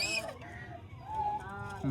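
A chicken clucks and squawks briefly, close by, with a few short harmonic calls over faint background noise.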